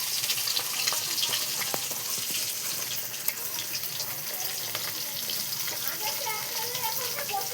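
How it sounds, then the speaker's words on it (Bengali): Fish fries in a home kitchen pan, a steady soft sizzle with scattered pops, fairly faint and close, with background voices. "মাছ ভাজা হচ্ছে।"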